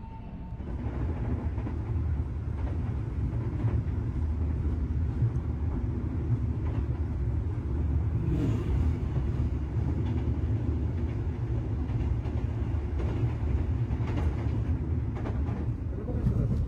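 A train departing Jatibarang station rumbles steadily along the rails, a continuous low roar with heavy mechanical rolling noise that swells slightly midway.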